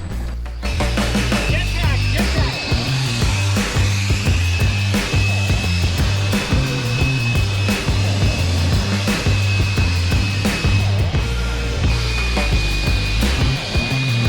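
Compressed air hisses loudly and steadily as it blows sand off a truck, a continuous close rush with faint voices under it.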